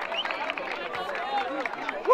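Crowd cheering and clapping for a rapper at a Brazilian street rap battle, Batalha da Aldeia, a dense steady roar of voices and hands with shouts rising near the end.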